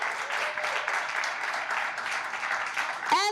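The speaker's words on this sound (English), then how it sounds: "can we please give her a round of applause?" Sustained applause from an audience at a bookshop book launch, even and fairly loud, with a voice starting to speak at the very end.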